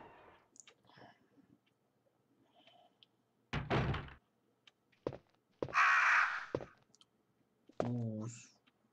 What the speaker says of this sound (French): Ouh, les corbeaux.